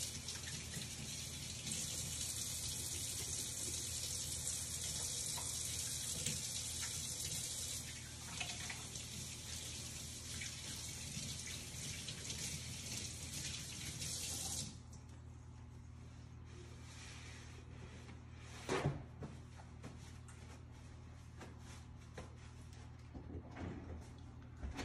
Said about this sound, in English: Next, we're going to wash our hands so we don't cross-contaminate.